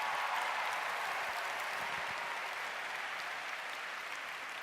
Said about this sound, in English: Would you give Babu a huge round of applause?